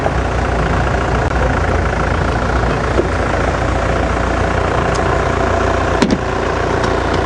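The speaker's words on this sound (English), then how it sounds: "the Mahindra sounds not unlike a great bevy of tractors" A Mahindra safari vehicle engine idles with a steady, rough low rumble close by at Djuma Game Reserve, with a few faint clicks and squeaks over it.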